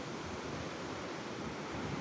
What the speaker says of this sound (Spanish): De momento miren cómo revientan las olas.